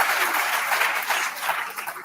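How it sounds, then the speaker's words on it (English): Audience applause at a Lagos State Pension Commission event, a steady dense wash of many hands clapping that carries evenly through the whole stretch without pause. "Give us a big round of applause."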